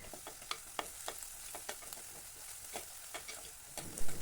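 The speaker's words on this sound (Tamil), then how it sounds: "வெங்காயம் நல்லா வதங்கட்டும், அப்போ தான் கிரேவி நல்ல டேஸ்டியாக இருக்கும்" Onions sautéing in a pan for a gravy, with a steady soft sizzle of frying and intermittent scraping clicks of a spoon stirring, close and moderately quiet, with no voices.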